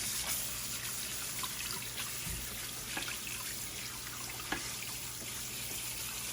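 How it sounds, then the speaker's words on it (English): Cold tap water pours over drained pasta in a kitchen sink, a steady soft rushing hiss with a few faint splashes and drips, heard alone without talk. "So I just run the cold water over for a while, stop the cooking"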